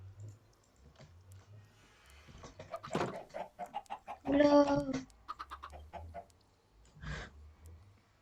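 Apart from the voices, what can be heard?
chickens clucking in a survival video game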